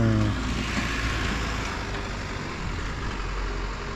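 A KTM Dominar 400 motorcycle engine runs steadily on a road ride, a continuous loud drone mixed with broadband wind rush, with a brief tonal note at the very start and no voices.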